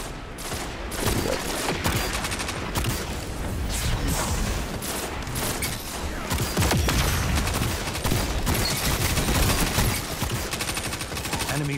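Sustained submachine-gun fire in a Destiny 2 Iron Banner Rift match, rapid continuous bursts with scattered booms, loud and close throughout, with faint game voice underneath.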